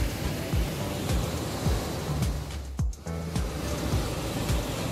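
Continuous rushing water from a small waterfall in Mae Wong National Park, Thailand roars steadily, broad and full, with a few faint knocks and thumps scattered through it.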